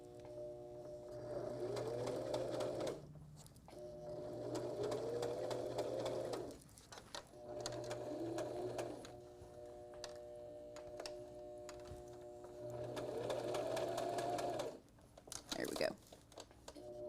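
A sewing machine stitching a small knot bag runs in several steady whirring bursts, forward then back stitch, separated by short pauses with light handling of fabric, close and moderately loud.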